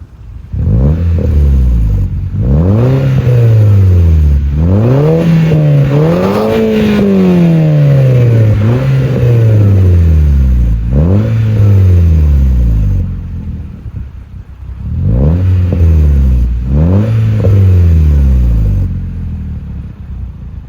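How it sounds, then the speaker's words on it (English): A car with a new exhaust revs hard again and again, close and loud, each blip climbing and falling in pitch. Wind buffets the sound between bursts. "I'm going to show you right now, guys, the exhaust, and I hope you like it."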